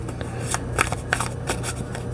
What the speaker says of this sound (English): I didn't like that shuffle. It's really sticky.